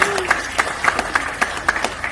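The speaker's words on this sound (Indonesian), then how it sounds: "Tepuk tangan buat Bapak Ibu ya" An audience at a business seminar claps in steady rhythmic unison, about three to four claps per second, over a continuous murmur of background noise.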